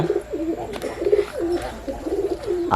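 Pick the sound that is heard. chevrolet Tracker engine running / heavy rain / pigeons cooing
pigeons cooing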